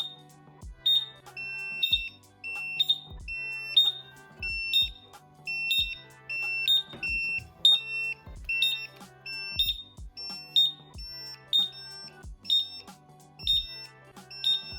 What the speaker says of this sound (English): The sensor detected it instantly, beeping loudly while sending an alert to my phone